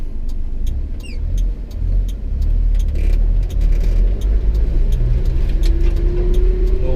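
A small Japanese mini truck drives through soft mud, its engine giving a low steady rumble close by, with a rising rev near the end and occasional clinks and rattles from the cab.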